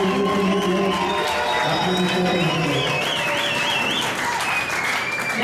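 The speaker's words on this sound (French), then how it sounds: "Nous pouvons applaudir ce couple." Wedding guests applaud the newly married couple, a dense, steady wash of clapping from a crowd that holds for the whole stretch, with scattered cheers and murmured voices mixed in.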